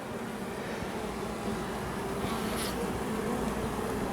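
Honeybees swarm and buzz around an open beehive during an inspection, a dense, steady hum close by that never lets up, with no voices over it.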